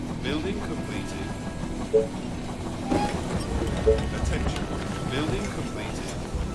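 A train arrives at a station in the strategy game They Are Billions, heard as a steady low rumble with a few faint chiming tones over a constant background wash.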